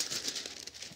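Excess wax paper torn off by hand around a glued cutting board, a quick faint crinkling rip lasting about a second with no talking.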